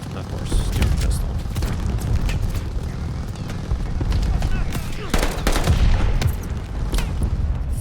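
Pistol gunfire in Call of Duty: Vanguard's campaign finale, with sharp shots popping repeatedly over a dense battle din of explosions and other weapons, while someone talks intermittently.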